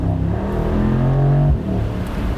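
A Mercedes SL 55 V8 revs loudly up close, and its exhaust gives a deep burbling tone that climbs then drops sharply mid-rev.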